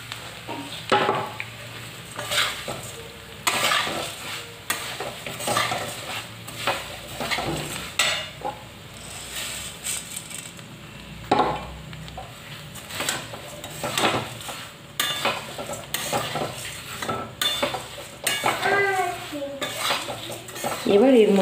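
Flattened rice (chire) frying in a wok, stirred with a metal spatula that scrapes and clinks against the pan in irregular bursts over a soft sizzle, close up, no talking.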